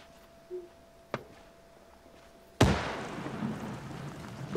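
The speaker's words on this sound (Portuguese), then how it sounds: "Eu tô ouvindo uma espécie de um estopim antes da explosão." A sudden loud blast in ArmA 3 erupts midway and rolls into a long rumbling decay, preceded by a brief sharp pop and faint hissing like a burning fuse.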